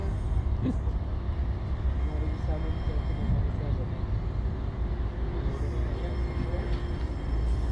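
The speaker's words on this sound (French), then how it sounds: "pour filmer ces deux tramways du Saint-Wagon" Two Alstom trams pull away together in a steady low rumble with faint squeals and hum, a continuous rolling noise throughout, while people chat nearby.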